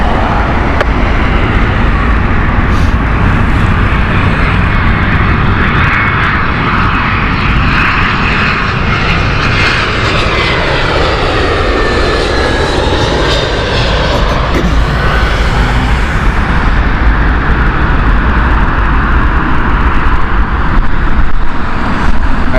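A British Airways Airbus A320 arriving from Warsaw at Heathrow, its loud jet engine roar sustained and close, swelling and sweeping in pitch as it passes, with no talk.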